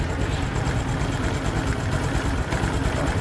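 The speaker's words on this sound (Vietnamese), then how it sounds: "Máy đang nổ nha anh em." A 2016 Honda Super Dream motorcycle idles close by, its small engine putting out a steady low, even putter with faint mechanical ticking and no voices over it.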